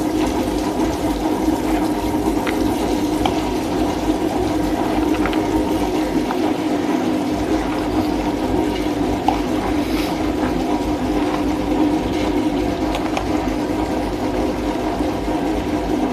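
Cold water from the fridge pours steadily into a vessel of soaked dal for idli batter, a continuous close rushing, splashing wash with no talking.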